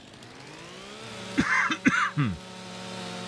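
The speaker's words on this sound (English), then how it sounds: "my medicine makes me cough" Someone lets out a short run of four harsh coughs close to the mic over a steady low background hum, with quiet before and after.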